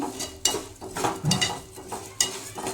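Coriander seeds fry in a dry pan while being stirred, with irregular scraping strokes of a spoon against metal and a soft sizzle underneath, close and fairly quiet.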